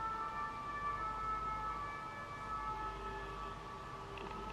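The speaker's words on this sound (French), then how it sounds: "Putain de sirène." A siren wails steadily in the background, its held tones sitting over a low constant hum for several seconds at moderate distance, with no talking.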